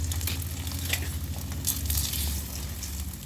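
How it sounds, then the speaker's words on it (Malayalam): An egg frying in a pan gives off a steady, close sizzle with soft crackles throughout, and no voices. "അപ്പോൾ നമുക്ക് മുട്ട വറുത്തിട്ട് വരാം."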